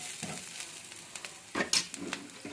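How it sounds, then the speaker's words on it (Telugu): Curry leaves tossed into hot oil for tempering, giving a soft steady sizzle with a few sharper crackles and stirring scrapes, close by and with no talk. "ఇప్పుడు కరివేపాకు వేసి ఒక్కోసారి ఇలా కలియపెట్టుకున్న తర్వాత"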